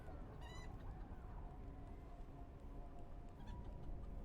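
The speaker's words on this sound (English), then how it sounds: "You guys hear those chickens too" Chickens clucking in Neverwinter, short high bursts of clucks twice over a dense, steady wash of game ambience.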